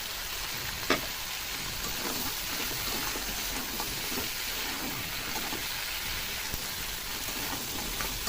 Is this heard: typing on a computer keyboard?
no